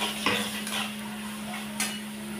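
Vegetables frying in oil in a pan for tel chochori, stirred with a spoon or spatula, giving a few distinct scraping, clattering strokes over a steady sizzle.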